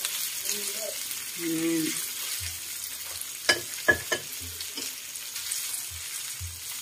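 Sliced longganisa sausage frying in a pan, with a steady sizzle under a few short words of talk, plus several distinct clicks and scrapes as the pieces are stirred.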